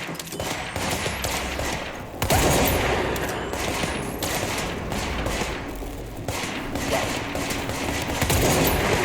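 Dense, continuous gunfire and explosive cracks in the video game Don't Blink, with heavy sustained noise and sharp impacts recurring throughout, loud and close with no pauses.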